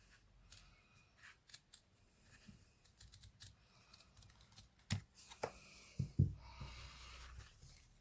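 Sharp scissors trim satin ribbon for a two-inch anchor twist hair bow: a series of crisp, close snips, soft at first and then a few louder cuts toward the end, with no talking.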